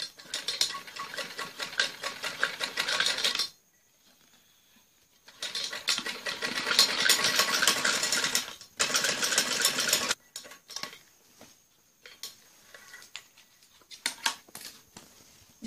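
A sewing machine stitches a trouser seam in two sustained runs of rapid, loud needle clatter, separated by a near-silent pause, then falls to sparse faint clicks and handling noise.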